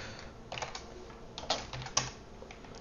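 Computer keyboard typing in short irregular bursts, with clustered keystrokes and a few sharper isolated taps standing out clearly over a quiet background.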